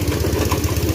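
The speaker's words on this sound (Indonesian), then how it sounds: "penggilingan sabut kelapa menggunakan mesin pengurai." A coconut husk shredding machine used for making cocopeat runs steadily, a rapid pulsing mechanical drone with a regular engine-like throb, close and continuous with no talk.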